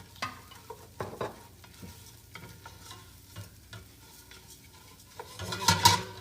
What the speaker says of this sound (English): continue stirring to get just a little bit of color on the barley